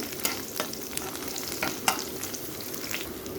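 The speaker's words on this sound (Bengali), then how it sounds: "রসুনের কোয়াটা একটু ভেজে নিব।" Garlic cloves frying in a pan for a tangy chutney, a soft continuous sizzle broken by a few sharp pops and the scrape of stirring, close and fairly quiet.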